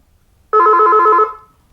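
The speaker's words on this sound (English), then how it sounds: "we have a phone call from where?" A telephone gives one short, loud electronic ring burst that quickly fades, set against an otherwise quiet line.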